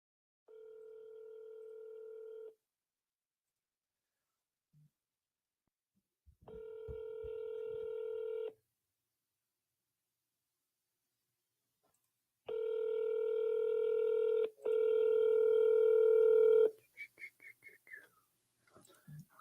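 A telephone call being placed to a seller: steady dial-tone-like tones sound in repeated bursts separated by silence, followed by a short flurry of beeps as the call connects.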